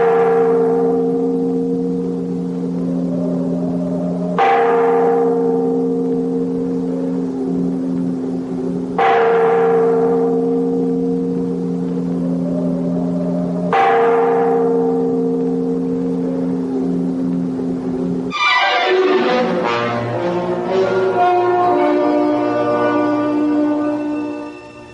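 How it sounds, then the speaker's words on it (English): A great tower bell tolls in a radio drama sound effect, four loud, evenly spaced strikes about four seconds apart, each ringing out with a long humming decay, before a burst of brighter, clashing bell tones near the end. "Make that bell ring loud enough to wake the living as well as the dead."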